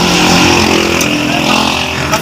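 Mitsubishi L300 with a hard-starting engine fires up, a loud, dense, steady engine roar close to the microphone throughout.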